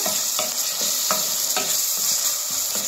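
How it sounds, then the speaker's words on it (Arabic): Chopped onion sizzles in hot oil in a pan while a utensil stirs it, with a steady bright hiss and a series of short, close scraping strokes at regular intervals and no voices. "دلوقتي حطينا الزيت وهناخد من البصل ده قيمة بصلة صغيرة كده مفرومة، وهنقلبها كده"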